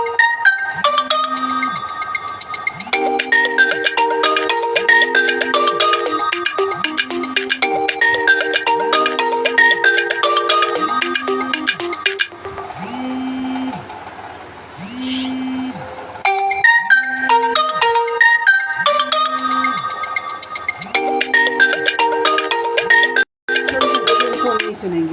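A phone ringtone plays as a looping electronic melody, loud and close, repeating its jingle for about twelve seconds, breaking off briefly, then resuming, with soft speech murmuring underneath during a Sukhrana monthly satsang gathering.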